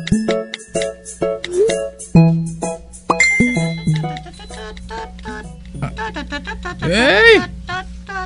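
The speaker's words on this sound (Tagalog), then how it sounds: "Ang akong cellphone nagring." A cellphone ringtone plays a bright, melodic run of chiming electronic notes that rises into a sweeping warble near the end, loud and close, over a steady low hum, with a voice briefly audible.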